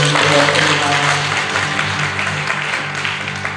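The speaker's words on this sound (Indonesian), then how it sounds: "Sekali ya Pak, tepuk tangan." Church congregation clapping along during a sermon at a GBI church in Langkat, a steady dense patter of many hands over a sustained tonal hum from the sound system or music, fairly loud throughout.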